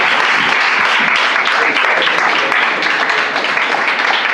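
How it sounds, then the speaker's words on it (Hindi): Loud, continuous applause from the crowd at a mushaira poetry recital, filling the room evenly for several seconds. "दोस्तों तालियां हो जाए।"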